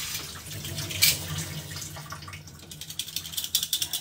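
Tap water runs steadily while dishes are washed in a sink, with a loud splash near the start and a string of rhythmic clinks and scrapes toward the end.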